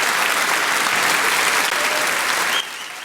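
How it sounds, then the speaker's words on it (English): Canned crowd applause and cheering played as a sound effect, a dense steady wash of clapping that suddenly drops in level near the end. "and the crowd goes wild"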